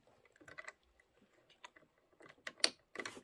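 A presser foot is swapped on a sewing machine, heard as a quiet scatter of small plastic and metal clicks, taps and snaps, sparse at first and then a few sharper clicks near the end, close by with no talking.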